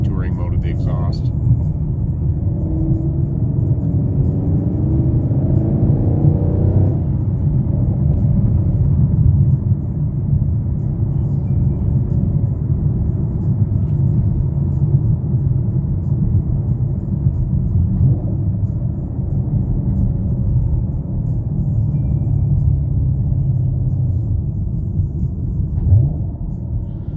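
A 2022 Chevrolet Camaro LT1 V8 with six-speed manual, exhaust in touring mode, droning steadily as a low, muted rumble from inside the cabin while driving, with a few brief shifts in engine note.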